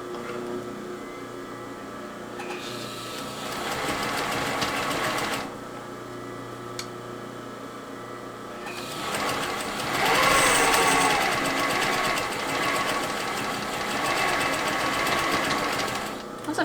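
A sewing machine stitches fabric in bursts, its fast whirring runs stopping and restarting in a quiet workroom, loudest near the end, with a brief spoken aside in between.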